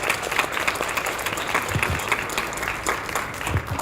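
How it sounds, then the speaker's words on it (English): An indoor audience claps warmly to welcome Councilman Costello at a plaque-related gathering, steady close applause throughout with a few louder individual claps standing out. "So give him a warm round of applause."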